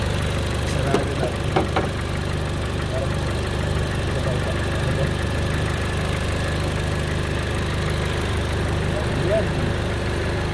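A car engine idles after an oil change with a low, steady rumble and mechanical hum, loud and close, broken early by a few sharp clanks.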